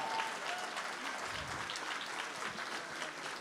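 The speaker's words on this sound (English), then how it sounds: "Give them one more round of applause, everyone." An audience applauds continuously, a thick, even patter of many hands clapping at moderate distance.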